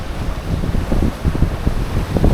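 Wind buffets a sailing boat along the Greek coast between Pylos and Porto Kagio, a loud, gusty rumble of wind noise on the microphone that pulses unevenly throughout.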